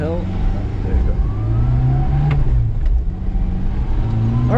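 Inside a 1994 Subaru Sambar kei van, the small engine revs toward 4,000 RPM, its whine rising in pitch over a rough, close rumble of the running vehicle.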